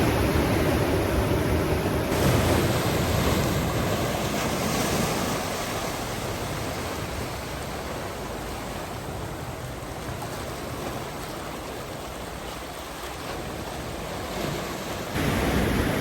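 Ocean waves wash over a beach as the tide comes in, a continuous loud rushing surf with wind noise buffeting the microphone.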